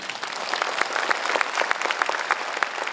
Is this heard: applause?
yes